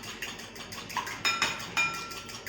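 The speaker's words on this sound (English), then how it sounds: "Now we whisk till smooth texture." Pancake batter being whisked in a bowl after melted butter is added, giving a steady run of quick metallic clinks and scraping taps against the bowl, with a few sharper rings standing out.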